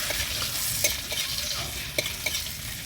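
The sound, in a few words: frying ginger and cumin seeds in a pan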